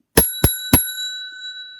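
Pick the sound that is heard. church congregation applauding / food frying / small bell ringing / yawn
small bell ringing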